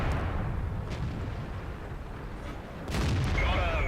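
Tank gun fire from a KV-1S in a tank video game, a couple of muffled booming shots under a constant low battle rumble, with a sharper louder blast and a whining tail near the end.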